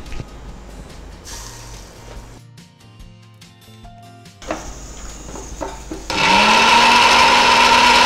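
A kitchen mixer grinder whirs in short bursts while grinding cooking ingredients, then runs loud and continuous near the end.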